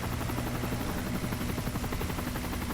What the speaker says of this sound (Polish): ja obserwuję helikopter